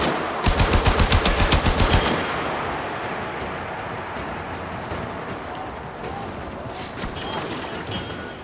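Rapid bursts of automatic gunfire in the video game Warframe, a loud rattling volley at the start followed by a dense, noisy battle din with scattered shots further back.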